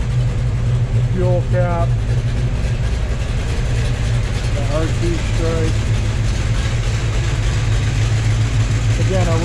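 A 1971 Dodge Challenger R/T, originally a 383 car and upgraded to a 440, idles with a deep, steady low rumble while someone talks over it close by.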